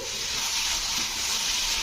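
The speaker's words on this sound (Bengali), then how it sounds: "আমার লাউটা কিন্তু ঘিয়ের মধ্যে ভাজা হয়ে এসছে প্রায়" Chopped bottle gourd frying in ghee in a pan, a steady, close sizzle and hiss that holds evenly throughout with no talk.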